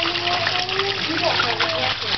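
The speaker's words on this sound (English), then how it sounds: "That's a cool waterfall, isn't it?" A waterfall makes a steady rushing, splashing wash throughout, partly masked by people talking over it.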